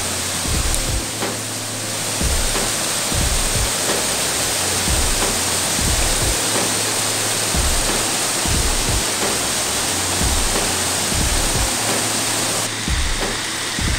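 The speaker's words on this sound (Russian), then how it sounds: "вот такая вот стихийная река, которая здесь вот переходит" A wild mountain river rushes through the Uchan-Su gorge, a loud, steady broadband roar of turbulent water with recurring low thumps, continuous and close throughout.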